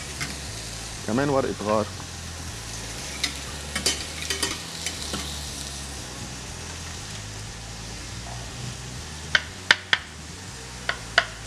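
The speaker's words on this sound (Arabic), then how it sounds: "ناطرين بس شوي البصل اللي تنطبخ، ما كتير بدي اطبخها." Onions cook gently in a pan, a soft low sizzle running under occasional stirring clicks and scrapes, while a person speaks briefly near the start.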